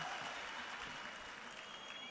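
An audience at an MLA's public speech in Chalisgaon gives a steady round of applause, faint and distant, with no voice over it.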